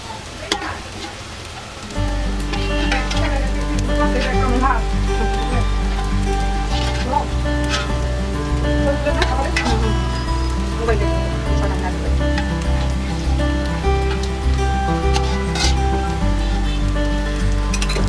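Onions fried to crisp golden beresta in hot oil for plain pulao sizzle loudly and steadily, a dense crackling hiss close by that jumps up after a quieter start, with occasional stirring clinks.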